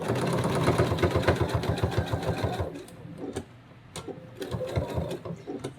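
Sewing machine stitching around plush flamingo tail pieces, a loud rapid rhythmic needle chatter that runs steadily, then slows into shorter irregular bursts with brief pauses.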